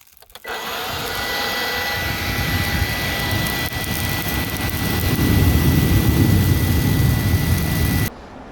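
A Craftsman leaf blower runs loud and close, a steady roaring whine with a high tonal hum that starts abruptly, holds for about eight seconds, swells slightly, then cuts off sharply.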